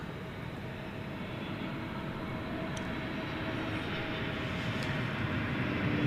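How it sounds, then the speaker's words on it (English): A UPS trijet at Dallas Fort Worth airport at night, its distant engine rumble low and steady, slowly building louder over several seconds with no voices. "and that is a trijet"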